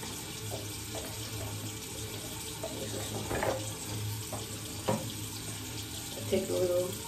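A bathroom tap runs steadily into a sink during face washing, a moderate even hiss of flowing water with occasional small splashes and hand movements.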